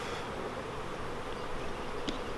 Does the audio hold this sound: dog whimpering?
no